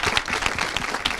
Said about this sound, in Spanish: Un aplauso también para Cristi, por favor.